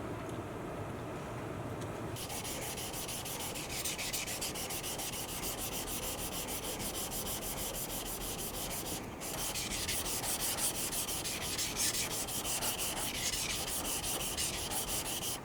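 A thin, tall bunka kitchen knife blade being sharpened in little strokes on a 400 grit Naniwa Professional whetstone, giving a steady, close gritty rubbing that continues evenly throughout.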